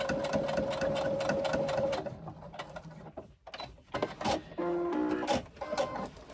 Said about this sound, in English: stitch again within the seam allowance to help hold that zipper tape in place